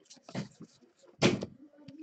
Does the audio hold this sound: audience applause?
no